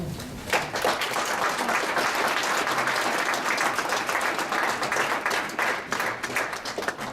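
An evening talk's audience gives a round of applause, a dense, sustained wash of many hands clapping at close range that holds steady throughout and thins slightly near the end.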